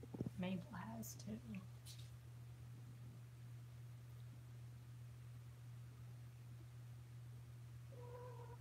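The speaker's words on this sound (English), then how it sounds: "I think it's like Kittens mewing" Young kittens mew in high, thin cries in the first two seconds, close by in a home, then a steady low hum fills a long quiet stretch before a faint tonal call near the end.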